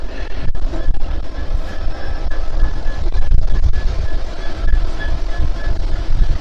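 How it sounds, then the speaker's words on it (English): A train rumbles past nearby over a railway bridge near Trent Lock, a steady loud roll of wheels on track with rhythmic clatter and a faint high squeal running throughout. "that's the train that's going towards Sheetstores Junction"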